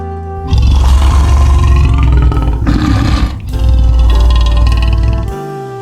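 A big cat's roar in a wild-animal sound sequence: loud, rough roaring bursts that run for most of the five seconds, with a short dip in the middle, heard alone without any voices.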